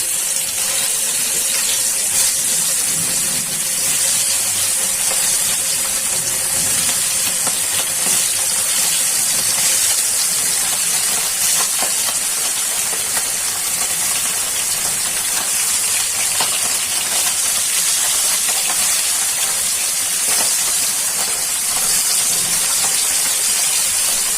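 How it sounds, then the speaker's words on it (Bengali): Small puti fish fry in a pan of oil, producing a loud, continuous close hiss and sizzle that holds steady throughout with no voices. "এখন মাছগুলো একে একে প্যানে ছেড়ে দিচ্ছি ভাজা হওয়ার জন্য।"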